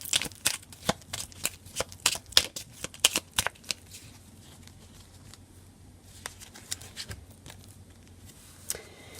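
Oracle cards being shuffled come through as quick, crisp riffling flutters and taps, clustered at first and then sparser and softer, close and quiet with no talking.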